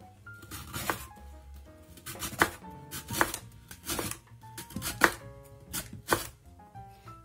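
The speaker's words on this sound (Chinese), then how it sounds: "切成薄片。" A kitchen knife slices a peeled lotus root into thin slices on a cutting board, giving close, crisp, evenly spaced chopping thuds about once per second.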